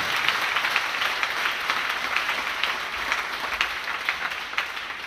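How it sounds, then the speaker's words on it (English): A church congregation claps for Jesus in a sustained, dense round of applause that fills the room steadily from start to finish, with no talk over it. "Clap for Jesus again"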